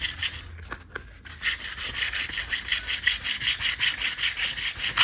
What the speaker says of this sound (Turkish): Şimdi bunun için önce 400'lük zımpara kullanıyorum.